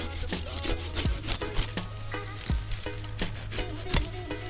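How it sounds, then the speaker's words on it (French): A Japanese-style pull saw cutting wood that bites only on the pull stroke, giving repeated short rasping strokes at a steady rhythm, close and fairly quiet, with no talking. "C'est une scie assez particulière parce qu'en fait, elle scie uniquement sur le retour"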